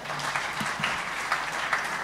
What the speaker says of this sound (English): So please clap for him again